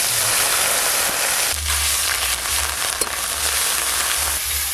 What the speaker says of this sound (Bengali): ফোড়ন হয়ে গেছে, পেঁয়াজ বাটাটা দিয়ে দেব।